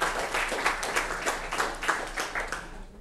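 A pub audience at a stand-up maths show breaks into applause, with rhythmic clapping and cheering that pulses steadily for a few seconds before fading out at the end.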